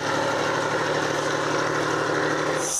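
Steady tractor engine droning close by while working a ploughed field, a constant mid-low rumble with no voices, holding evenly throughout.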